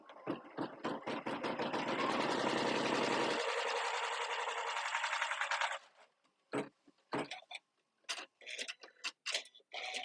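Sewing machine stitching down part of a quilt block, a loud steady mechanical whir for about six seconds, then stopping, followed by scattered clicks and handling knocks.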